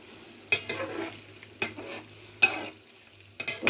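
Flat beans and potatoes cooking in a pot are stirred in a few separate strokes. Each stroke gives a sharp scrape or clack and a brief rustle, with quiet pauses in between and a low hum underneath.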